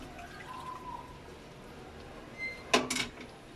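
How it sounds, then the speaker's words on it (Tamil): Water goes into a pot of Chettinad chicken curry in a home kitchen: a faint quiet stretch, then a short splashing pour near the end. "இப்போது அது கூட கொஞ்சம் தண்ணி நம்ம சேர்த்துக்கிறோம்."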